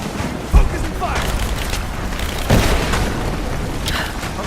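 Gunfire in Rise of the Tomb Raider on PS4, with two heavy booming shots standing out from a dense, noisy battle din that runs throughout.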